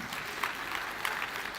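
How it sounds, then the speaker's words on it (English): An audience at the Safaricom Engineering Summit claps for a departing panel speaker, a moderate, even patter of many hands with a few sharper claps standing out, continuous and unaccompanied by talk. "Round of applause for him once more."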